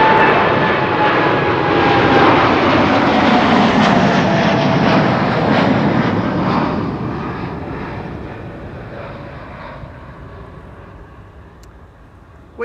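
A United Airlines airliner's engines roar loudly at Amsterdam Schiphol Airport, a broad rushing jet noise with a faint whine that swells and then fades steadily as the aircraft moves away.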